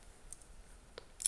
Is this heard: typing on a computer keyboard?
yes